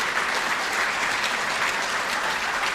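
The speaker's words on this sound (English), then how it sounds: "I think those 3, one standing right up here, deserve a round of applause for that as well." A high school graduation audience applauds honored students, a dense, steady wall of clapping that fills the hall at an even level throughout.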